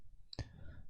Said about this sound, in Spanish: Hacemos clic en el archivo.